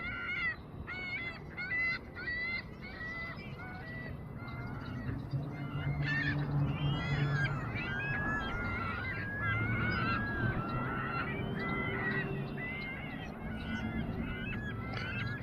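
Many seagulls call over and over, a loud overlapping chorus of honking cries filling the air, with a steady low rumble underneath.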